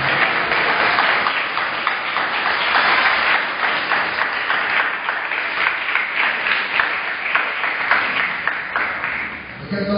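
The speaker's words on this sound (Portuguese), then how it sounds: "comece a dar uma salva de palmas para Ele." A church congregation applauds together in sustained, even clapping that carries on for the full ten seconds, fairly loud and close, with a faint voice underneath at moments.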